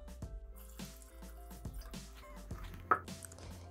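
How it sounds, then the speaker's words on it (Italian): Water pours into a Thermomix TM6 mixing bowl while making a rice and pumpkin timballo, giving soft splashing and dripping with a brief louder splash near the end, no talk. "Aggiungere l'acqua,"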